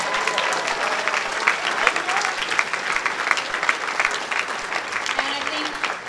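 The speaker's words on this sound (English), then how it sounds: "Big round of applause" Lively audience applause at the closing ceremonies of BronyCAN 2014, a fan convention, with dense clapping and scattered cheers running throughout, fairly close and full.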